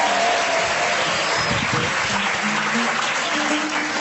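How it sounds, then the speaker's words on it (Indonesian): An audience at an evening religious lecture breaks into loud, dense applause for a young participant. The clapping rolls on as a continuous roar with a few low voices mixed in. "Tepuk tangannya buat Faisal."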